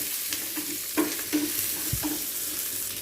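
Dry chillies frying in oil for tomato chutney, a steady soft sizzle with several clinks and scrapes of a stirring spoon against the pan, close and alone with no talk.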